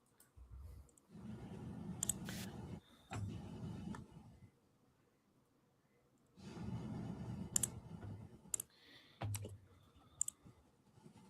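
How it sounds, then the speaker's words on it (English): Quiet clicking of computer keyboard typing during a live podcast, coming in two separate bursts of rapid keystrokes with a pause of near silence between them. "are you typing stuff?"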